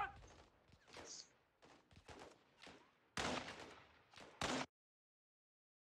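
Bursts of gunfire in Call of Duty Modern Warfare II, a string of sharp, close shots in uneven volleys with short gaps, ending in silence.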